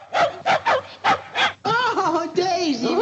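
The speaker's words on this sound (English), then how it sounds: "Oh, she's a wonderful dog." A dog yips in a quick burst of five short, sharp barks, then lets out longer whining, howling yelps in a 1948 Blondie and Dagwood film scene, loud and close with no talk over it.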